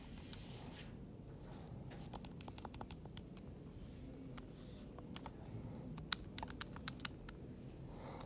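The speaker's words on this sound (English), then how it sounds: "I type that into the calculator that you guys can't see" Numbers tapped into a calculator, a string of faint, quick key clicks in irregular bursts that grow sharper toward the end, with no voices.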